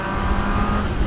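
Ferrari 360 engine running up close, a steady, loud, dense drone with a strong low rumble that holds without a break for about a second.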